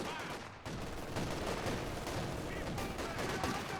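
A .50 cal machine gun fires in a strategy war game, sharp rapid bursts cracking repeatedly over a dense battle din, with other gunfire layered in and a voice talking over part of it.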